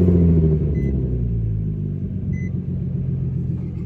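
A Nissan 350Z engine gives a deep, steady close rumble as the car pulls away, easing slightly lower, with two faint electronic chimes.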